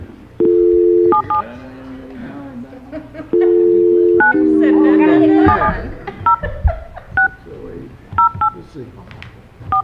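A phone is dialed to call someone and add him to a conference call, with clear DTMF tones: two long tones, then a quick string of short beeps, amid close talk.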